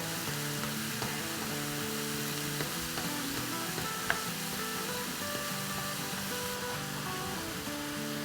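Chicken fried rice ingredients sizzle and fry in a pan with a constant dense hiss and a faint underlying hum, close and even, with one sharp clink midway.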